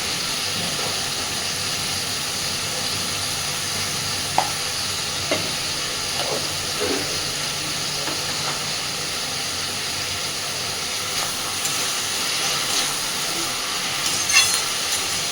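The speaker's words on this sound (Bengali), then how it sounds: "খুব ভালোভাবে সব কিছুকে এবার মিশিয়ে সবজিগুলো আগে ভেজে নেব" Vegetables dusted with turmeric and chili powder fry in a pan for easy fried rice made from leftover rice, a steady sizzle running throughout with a few clinks and scrapes of stirring.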